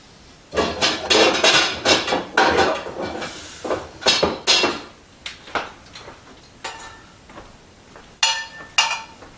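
A metal cooking pot, a Viking 3-ply 2 1/4 size pot, is pulled out and handled in a kitchen, giving a rapid series of loud clanks and knocks, then sparser clatters and a final ringing hit.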